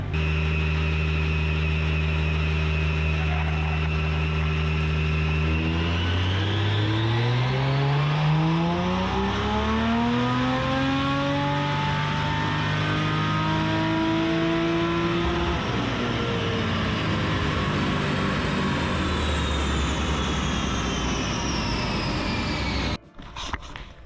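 A modified, LSD-swapped V8 Nissan S14 on a dyno rev up loudly from a steady drone, climbing to a screaming peak, then winding back down before the sound cuts off abruptly.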